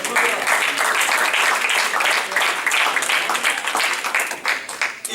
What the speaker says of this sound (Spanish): Den ese aplauso al Señor